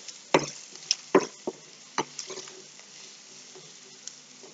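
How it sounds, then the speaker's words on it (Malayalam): Onions and curry leaves sautéing gently in a pan for butter chicken, a soft steady sizzle broken by a few sharp spatula scrapes and taps, close and moderately loud, with no voices. "സവാളക്കകത്തേക്ക് ഞാൻ കറിവേപ്പിലയും കൂടി ഇടുന്നുണ്ട്. പതുക്കെ ഒന്ന് സോട്ട് ചെയ്യാൻ മതി,"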